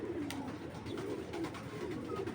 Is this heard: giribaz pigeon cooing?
yes